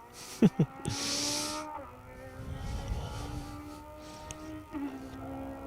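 Subaru rally car passing on an asphalt stage at the Down Rally, a rising engine note with gear changes and revs that fades into the distance, with commentary talk around it.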